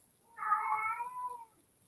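A domestic cat gives one drawn-out meow in the background of an indoor room, lasting about a second, clear and alone with no talking over it.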